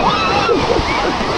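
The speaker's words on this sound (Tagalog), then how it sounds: "Ang lakas ng alon na yan" Strong sea waves splash and rush against a boat off El Nido, Palawan, a constant loud watery roar under people talking throughout.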